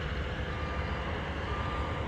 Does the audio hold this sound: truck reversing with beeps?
yes